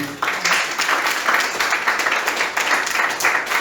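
A Sunday church congregation applauds to glorify the Lord, many hands clapping in a fairly loud, steady burst that starts abruptly and continues throughout.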